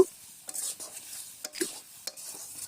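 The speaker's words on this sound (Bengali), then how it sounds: "এখন হচ্ছে আমি মাংসটা কষানোর জন্য একটু ঝোল দিয়ে দিলাম।" Meat is braised and stirred in a pan with a little broth for a spicy, dry bhuna-style dish. Sporadic scraping stirs come over a soft, steady sizzle, close and moderately quiet.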